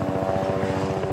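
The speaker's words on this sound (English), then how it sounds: "A Bell 505 helicopter demonstrated the takeoff and landing capabilities future air taxis need" Bell 505 helicopter taking off or landing at a vertiport demonstration, a close, loud, steady rotor thump with rapid regular beats over a constant engine whine, with no voices.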